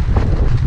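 Wind buffets a GoPro microphone at a tent campsite in the Larzac, a brief, loud, rumbling burst of low buffeting with no voices.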